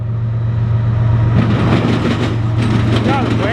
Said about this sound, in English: Got a rail train.